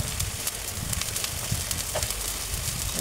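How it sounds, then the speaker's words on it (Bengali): Spice paste of ginger, cumin, salt, turmeric and coriander powder frying in a pan, a steady close sizzle and crackle with no talk. "জিরা বাটা, লবণ, এরপর একটু হলদির গুঁড়া, ধনিয়ার গুঁড়া দিয়ে সুন্দর করে মশলাটা কষিয়ে নিচ্ছি।"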